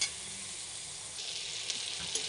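Spices with cumin powder fry in oil for a pabda fish curry, giving a steady, close, dense sizzle throughout with no voices.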